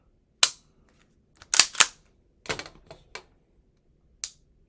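Sharp metallic clicks from the trigger of a Girsan Witness 2311 pistol as it is pulled and reset, about six or seven crisp snaps in an uneven sequence, close and isolated in silence.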